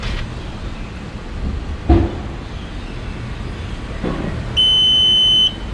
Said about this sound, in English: The first sound is for height setting, and then you hear 2 beep, followed by 3 beep, and followed by 4 beeps.